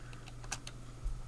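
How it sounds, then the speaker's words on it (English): Keys on a computer keyboard click faintly during a podcast recording, with a few scattered, quiet taps over a low hum. "typing is coming through really loud."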